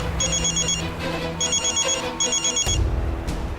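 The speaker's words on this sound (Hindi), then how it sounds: "रेस्टोरेंट के सारे फोन आज ही बजे।" A telephone rings in a restaurant, sounding in three repeated electronic ringtone bursts over a steady background hum, loud and close.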